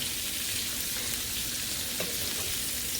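Asparagus and bacon sauté in a skillet, giving a steady close sizzle and crackle with a few brief stirring clicks partway through, and no talking.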